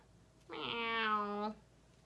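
A human voice imitates a cat's meow, giving one clear, sustained, whining mew of about a second, close and alone against a quiet background.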